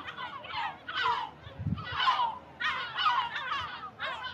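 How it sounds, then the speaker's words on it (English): Noisy chickens on a beach squawk in a string of separate loud calls, one after another, fairly close and heard alone with no voices. "Noisy, yeah, beach chickens."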